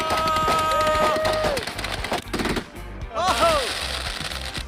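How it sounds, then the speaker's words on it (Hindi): Firecrackers going off in rapid crackling bursts like gunfire, loud and close, with whistling rockets rising and falling twice amid the popping. "मैंने बस रैंडम पटाखे खरीदे थे,"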